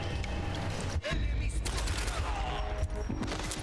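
Dense gunfire from the 007 GoldenEye Reloaded video game, a continuous loud burst of automatic shots with a brief gap near the middle, then the volley resumes steadily to the end.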